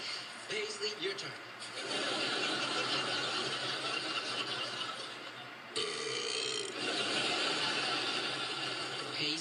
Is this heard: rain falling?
no